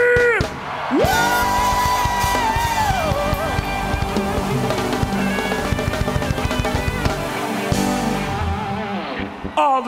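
Crowd at a worship concert yelling and whooping, with one long rising whoop over loud, sustained screaming and cheering that fills the venue.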